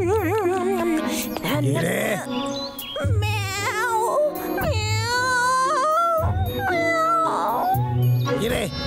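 A cartoon cat meows in a rapid run of high, wavering cries, voiced by a person imitating the animal, loud and close with short gaps between calls.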